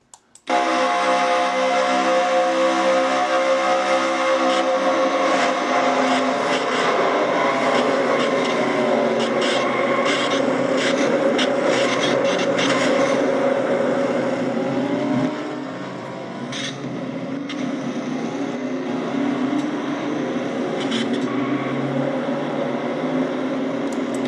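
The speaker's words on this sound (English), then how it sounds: "And you can hear John's slowly dying engine." A race car engine in a video game drones loud and steady, then drops noticeably in level partway through and carries on rougher and weaker to the end as the engine fails.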